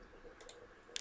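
A few quick mouse clicks while changing DNS server settings on a computer, a faint pair of clicks near the start and a sharper cluster at the end, alone over quiet background hiss.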